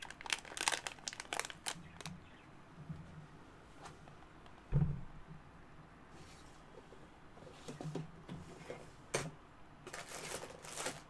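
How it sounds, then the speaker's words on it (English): A plastic bag of perler beads is pulled open, giving close, crinkly rustling in bursts with short pauses and one sharper crackle partway through. "Open bag."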